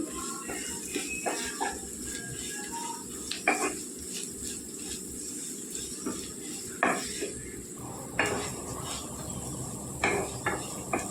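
Garlic cloves and broad bean pods fry in a pan while being stirred, with a steady low sizzle under repeated scraping and clinking of a utensil against the metal, several louder knocks standing out.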